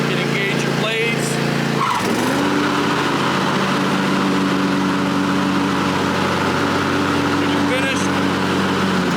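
A Cub Cadet Enduro Series lawn tractor engine runs steadily at close range, dipping briefly in pitch before settling into an even drone, while a person talks over it.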